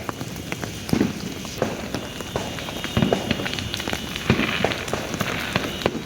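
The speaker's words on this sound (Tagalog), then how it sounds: "Naulan! Ulan na New Year!" Steady patter of rain falling on surfaces during a New Year's Eve celebration in the Philippines, with scattered sharper drops and distant crackles mixed into a constant wash.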